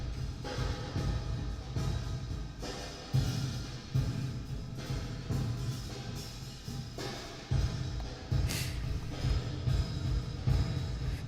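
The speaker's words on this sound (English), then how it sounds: "It is a hall-like reverb in which all the energy is later" Guitar played through an Airwindows hall-like reverb plugin, its notes swelling into a dark, late-blooming room tail with little up-front energy, steady and moderately loud throughout with no talking.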